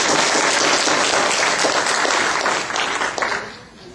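Congregation applause at a mosque gathering, a dense, loud, sustained wash of clapping from many hands that tapers off near the end.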